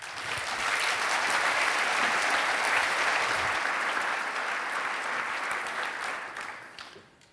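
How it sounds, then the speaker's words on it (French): A conference keynote audience gives sustained, dense applause that holds steady for several seconds before tapering off. "Accueillez comme il faut Fabrice Epelboin, applaudissez public"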